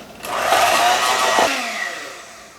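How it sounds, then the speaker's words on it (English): An electric hand mixer whirs loudly as it whips a cake pan release mixture, a close, steady buzzing drone that drops in pitch and winds down after about a second and a half. "we take our mixer and we just mix it up"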